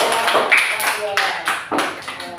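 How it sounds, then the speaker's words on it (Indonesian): A small group in a classroom claps in several quick rounds of sharp, close hand claps. Voices are heard alongside the clapping. "Bagus, tepuk tangan untuk kita."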